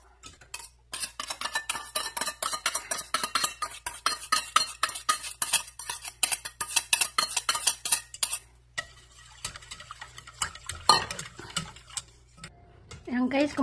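A utensil scrapes and clinks rapidly against a pot while stirring a gelatin and mango mixture, a steady rhythm, close up, with a brief pause and some shuffling near the end.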